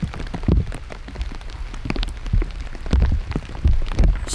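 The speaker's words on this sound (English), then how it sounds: "And that rain's still coming down out here at Field of Dreams." Steady rain patters on a wooded disc golf course, a dense continuous hiss with scattered heavier drops and thumps close by, no voices.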